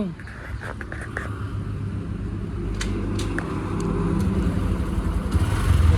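A motorbike ride on a rural road, with steady engine and road noise that grows louder toward the end and people talking over it.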